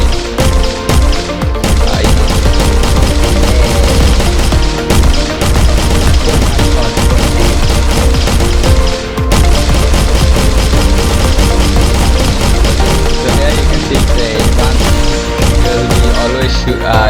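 AI enemy gunfire in an Unreal Engine game rattles in loud, dense, continuous bursts of shots and impacts, layered over game music and effects with little pause.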